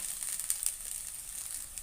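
Vegetable fried rice sizzles steadily in a hot pan as it is stirred lightly, a soft continuous hiss with faint scraping bumps, no voices.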